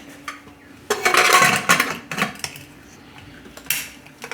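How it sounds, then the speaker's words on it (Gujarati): Metal clanks and scrapes as a pressure cooker lid is fitted and closed over sweet potato pieces in a kitchen, a loud clatter early followed by a few sharper knocks. "તો આને આપણે હવે કુકર બંધ કરી દઈશું"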